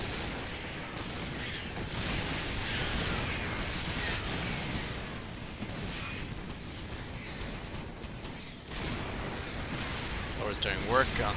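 StarCraft 2 battle in which a Thor attacks a planetary fortress: dense, continuous booming and crackling weapon fire with explosions layered throughout, loud and busy for the whole stretch.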